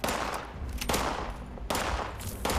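Rapid gunfire from a scorched enemy in Fallout 76, repeated bursts of shots at close-to-mid range, steady and loud across the whole moment with no talking.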